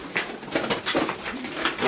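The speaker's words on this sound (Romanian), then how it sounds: "Aici este un porumbel." Pigeons coo in a Romanian loft of champion racing pigeons, a soft continuous cooing close by and steady, with no talk.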